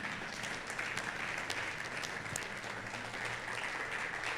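A church congregation at a Sunday service applauds, a steady, dense wash of clapping that holds at an even level throughout with no voices.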